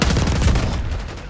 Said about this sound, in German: mit was haben die geschossen?